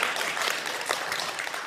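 Steady crowd applause at a Norwegian gathering, a dense, even patter of many hands held at a constant level throughout with no distinct voices.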